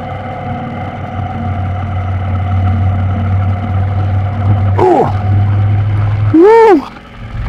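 A Phantom car strains up a hill climb road, its engine droning steadily at mid pitch, with two rising revving swoops near the end as it labours for power.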